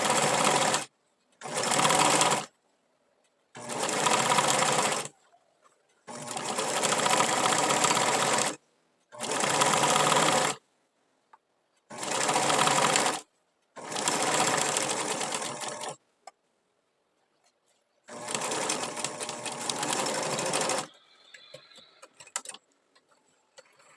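A sewing machine stitches fabric with a pin left in, running in loud, close bursts of fast rhythmic needle clatter broken by short silent pauses, with no talking.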